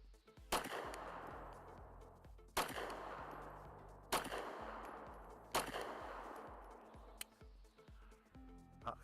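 Four sharp pistol shots from a Canik TP9SFx fitted with a Glock recoil spring and OEM firing spring, evenly spaced about a second and a half apart, each with a short ringing decay, heard at a distance and fairly quiet.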